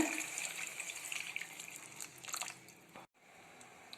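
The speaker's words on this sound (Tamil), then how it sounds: "தண்ணி கொஞ்சமாக சேர்த்துக்கோங்க." Water pours into a hot pan of sautéed ingredients for sundakkai vathal kulambu with a hissing, bubbling rush that fades after a few seconds, then a quieter simmer.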